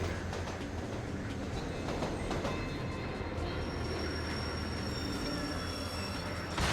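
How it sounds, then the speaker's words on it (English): A train rumbles past in the video game Hunter: The Reckoning, a steady, loud, dense roar with metallic wheel squeal and clatter running unbroken throughout, with no talking. "I guess that was the last train of the night"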